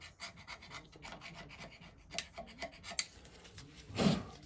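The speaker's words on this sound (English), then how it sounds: "Just scrape off only what's needed." Repeated rasping scrapes of paint being scraped off a 1921 Lister TM stationary engine, a steady series of short strokes up close on hard metal, ending in a louder scuffing rub.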